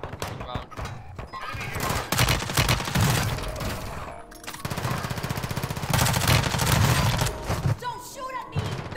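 Rapid automatic gunfire bursts through a Fortnite match in near-continuous loud volleys with brief pauses, while players talk over the shooting.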